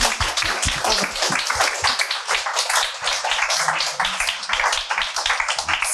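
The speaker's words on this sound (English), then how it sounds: "Let's applause first to the panel." A conference audience applauds a panel at the close of an energy-transition investment event, with dense, steady clapping from many hands filling the room for several seconds at close range.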